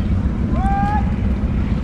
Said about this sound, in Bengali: অনেক নৌকা একসঙ্গে যাচ্ছে